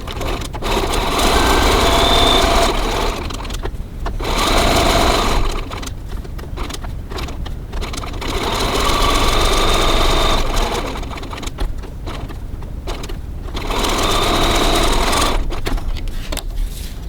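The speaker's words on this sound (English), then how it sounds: "I'm just going to top stitch 3 millimeters, 1/8 of an inch from the edge all the way around the flap" Sewing machine top stitching around a wallet flap, running in long steady bursts of close, loud whirring with brief slowdowns between passes.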